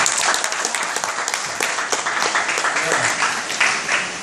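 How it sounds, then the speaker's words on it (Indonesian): An audience applauds at a testimonial talk on Indonesia's Taman Safari, the clapping close and fairly loud, with individual claps standing out through a dense, steady patter across the whole stretch. "Kita beri tepuk tangan ya"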